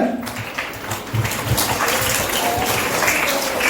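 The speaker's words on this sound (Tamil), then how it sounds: "அவங்களுக்கு ஒரு கைத்தட்டல் கொடுத்துருங்க" Pupils and guests at a school Diwali debate program clap for a speaker: a continuous wash of hand-clapping from a large crowd, even and moderately loud, with faint low rumbles beneath.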